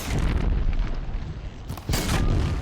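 A heavy, rumbling blast roars through the clip, dips briefly, then bursts again loudly, sounding like explosions in Horizon Zero Dawn with no talking.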